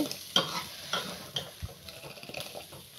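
A spoon stirs dal in a cooking pan with soft, irregular scraping clicks and light sizzling, close and fairly quiet, with no voices.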